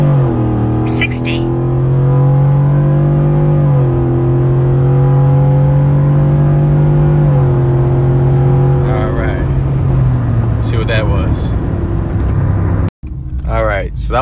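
A Ford F150 fitted with a Boss manifold and tune accelerates hard from 40 to 100, its engine note climbing steadily through a long loud pull and easing off near the end.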